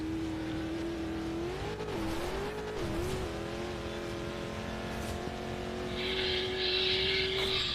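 A truck in the racing game Forza Horizon 2 drives with a steady engine drone that rises and dips as it slides and skids, with tyre hiss rising near the end, alone without talk.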